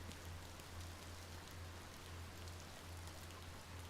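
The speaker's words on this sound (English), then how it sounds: "There's a chance I can't get a dove because it's raining." Rain falling in the video game Cattails: Wildwood Story, a dense, even hiss of steady rainfall filling the whole span, alone and without talking.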